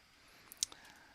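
A mouse click in computer software: a single faint, sharp click, with a couple of softer ticks around it, over quiet room tone.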